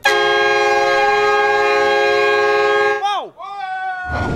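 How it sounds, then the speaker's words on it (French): Loud, sustained multi-tone TGV high-speed train horn blares continuously through a hall for about three seconds, then cuts off and sweeps downward, followed by a brief rising tone and rumbling noise. "Impossible de fermer l'œil avec le klaxon de TGV de Sylvain qui résonnait dans la salle"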